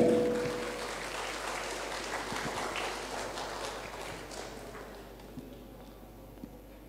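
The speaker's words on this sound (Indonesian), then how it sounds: "Boleh kita berikan tepuk tangan yang meriah untuk Ibu Profesor Dr. Nurhayati Rahman MSI." Audience applause at a graduation ceremony for students of the DDI Galesong Baru Islamic boarding school fills a hall, dense clapping that is loud at first and gradually thins and fades, with no clear speech over it.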